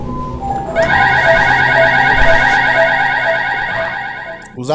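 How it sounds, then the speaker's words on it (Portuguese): A loud, continuous electronic alarm rings in a Backrooms horror video, a harsh pulsing tone that starts abruptly and holds steady before cutting off near the end. "Os alarmes ecoam"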